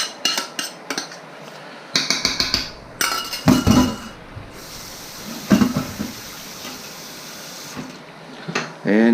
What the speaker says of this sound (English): you're just gonna stir this all around. Mix it up real good with your spoon